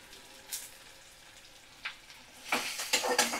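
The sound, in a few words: onion and chopped green chilies frying in a pan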